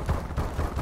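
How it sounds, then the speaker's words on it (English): Rapid gunfire in Call of Duty Advanced Warfare at close range, a dense run of loud overlapping shots that pulses steadily through the moment with no clear gaps. "Those are some pretty loud gunshots,"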